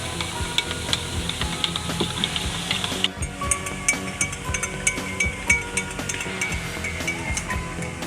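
Salt is stirred into water in a glass with a spoon, giving continuous clinking and scraping with a brief pause partway, close up and with no speech.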